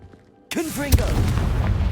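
A Confringo fire spell in Hogwarts Legacy bursts abruptly after a short quiet lead-in, a sharp boom followed by crackling, whooshing tails and a brief voiced cry over the blast.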